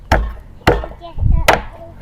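A knife chops down hard on a board in a village kitchen, three sharp, loud strikes spaced evenly with soft clatter between them and no voices.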